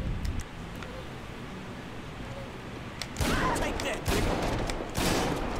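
Gunfire rings out in GTA V on PC with the Redux mod. Scattered shots come early, then a dense, loud volley of rapid shots fills the second half over street ambience.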